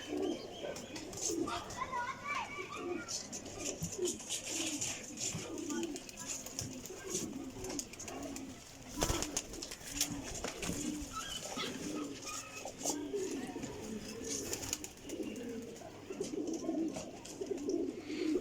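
Teddy pigeons coo softly and repeatedly, mixed with scattered chirps and faint wing flutters, while a voice talks intermittently over the birds.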